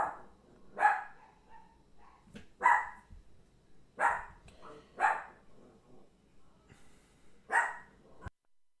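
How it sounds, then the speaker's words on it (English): Several loud dogs barking indoors in a home office, a series of sharp separate barks spaced about a second apart, moderately close and alone without talking. "so if you guys hear barking, I have like three loud dogs"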